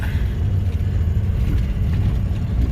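A road grader lightly skims the top of a wet, rutted dirt road, giving a steady low engine rumble with a slight mid-range drone, heard at moderate distance and without any pause.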